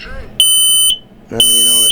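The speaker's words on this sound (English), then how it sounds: "every smoke alarm will have a test button, and once you test it, it's going to do a cycle." A smoke alarm on its test cycle sounds in two loud, sustained electronic beeps, each lasting about half a second, separated by a brief pause, with faint background noise before.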